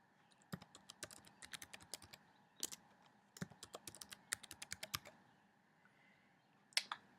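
Fingers tap out a password on a computer keyboard in quick clustered bursts of crisp clicks, close and quiet, with short pauses between runs and a last few scattered keystrokes.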